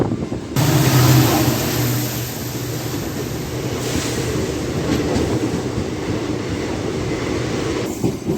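An MMTS local train pulls away from Shivarampalli station in Hyderabad after rain. Its loud, steady rumble of wheels and carriages runs without a break from start to end, with no talking.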